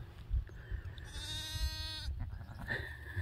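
A young lamb in a farm pen bleats once in a drawn-out, wavering cry, close and clear over low rustling and breathy background noise.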